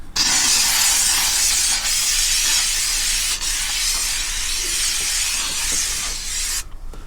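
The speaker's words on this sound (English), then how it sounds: "Now we got fresh steam." Steam cleaner hissing continuously and loudly up close while cleaning a red leather car seat in a Challenger, a broad steady hiss with a couple of brief dips and a sharp cutoff near the end.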